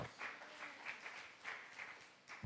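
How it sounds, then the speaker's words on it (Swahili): Church congregation breaking into rhythmic applause, a steady wash of many hands clapping in repeated swells, fairly close and filling the room with no speech over it. "Chapie Bwana makofi."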